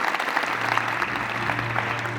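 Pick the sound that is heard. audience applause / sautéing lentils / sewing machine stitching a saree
audience applause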